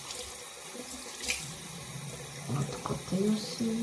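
Cold water runs from a tap into a sink, a steady, fairly soft splashing flow while someone speaks briefly over it.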